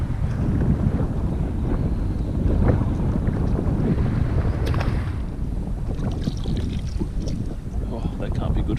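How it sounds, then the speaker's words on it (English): Strong wind buffets the microphone during kayak fishing on open water, a steady low roar with gusts, while people talk over it at times. "The wind is starting to pick up."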